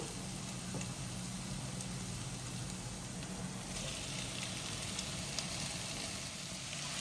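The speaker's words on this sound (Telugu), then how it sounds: "అల్లం వెల్లుల్లి పేస్ట్ బాగా ఏగిపోయిందండి ఇప్పుడు టొమాటోస్ వేసుకోవాలి" Tomatoes frying in ginger garlic paste in a pan for a mushroom semi-gravy, giving a continuous soft sizzle and hiss with faint stirring, even and fairly quiet throughout.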